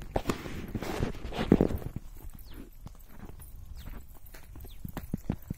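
Buffalo hooves clip-clop along a dirt path during grazing, several close steps at an uneven walking pace, with rustling and a loud burst of noise early on.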